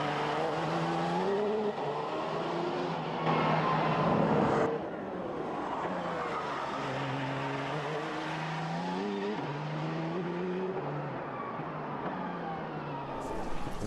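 A 2008 Red Bull Formula 1 car engine screams on track, loud and continuous, with its pitch climbing and dropping through repeated gear changes as it accelerates and brakes, and faint talk underneath.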